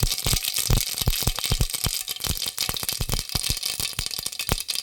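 Mustard seeds splutter in about two tablespoons of hot oil while pepper sambar is being made, giving dense, rapid crackling pops that keep going close up, with no voice.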